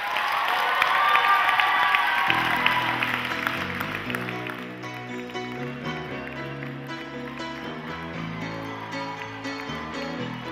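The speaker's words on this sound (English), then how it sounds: "Let's have a round of applause for all of our models and contestants." Crowd applause and cheering at a high school graduation fashion show, loud at first and then fading after a couple of seconds as a pop song with piano and band takes over.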